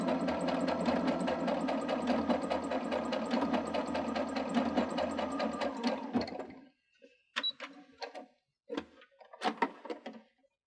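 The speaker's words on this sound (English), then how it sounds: "You can see as it's stitching, it takes a few straight stitches and then takes a little bite to the left." A domestic sewing machine runs a built-in blind hem stitch through folded fabric, whirring steadily with a rapid needle rhythm for about six seconds. It then stops, leaving a few scattered clicks and rustles.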